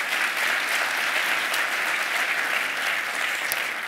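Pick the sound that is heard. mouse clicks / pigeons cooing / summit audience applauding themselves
summit audience applauding themselves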